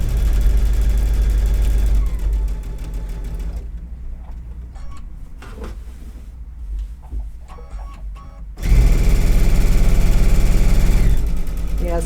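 Sewing machine stitching down a spring garden flag or pennant, a steady mechanical whir that drops to a slower, quieter run in the middle, then surges back to a loud fast hum, with occasional speech.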